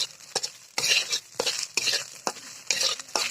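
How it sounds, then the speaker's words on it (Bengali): Rhythmic scraping strokes of a utensil stirring fish roe frying in a hot pan on low heat, with a steady sizzle between the strokes, close and fairly loud. "একেবারে সীমিত জাল দিয়ে এটা এর সাথে সুন্দর মতো মিশিয়ে নেব"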